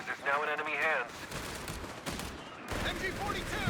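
Gunfire in a Company of Heroes 3 match, a rapid burst of shots layered under someone talking and other game sounds, fairly quiet overall.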